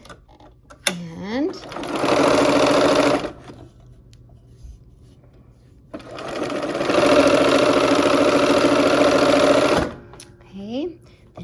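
A sewing machine stitches quilt pieces in two sustained, loud, even bursts of rapid whirring, separated by a pause. Fabric rustles and brief talk are heard around the runs.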